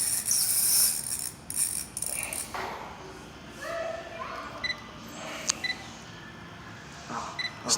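A fishing reel's loose drag clicking while a fish is being fought, heard as bursts of rapid ratcheting clicks that start and stop between quieter moments, with a few sharp ticks.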